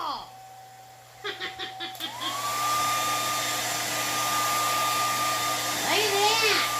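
A hairdryer switched on near a fresh painting, a steady loud whirring blow that runs continuously after a few seconds of chatter and laughter, with voices talking over it.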